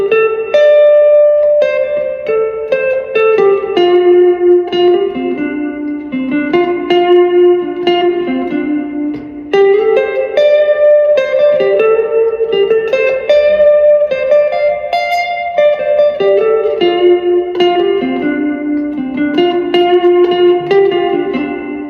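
An electric guitar runs through a VOX AC10 amp with the reverb turned all the way up, playing a continuous, lush melodic passage with long, washy tails, loud and alone with no talking.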